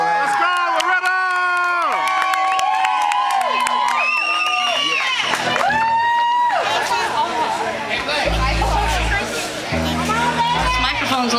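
Crowd at a live country music show cheers and claps for a singer, loud and close, mixed with guitar and band sounds and excited chatter and shouts.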